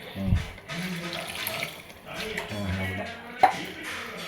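Water pouring and splashing steadily into a cooking pot, with people talking softly over it and a brief clink near the end.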